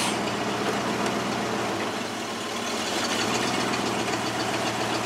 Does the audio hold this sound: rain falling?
no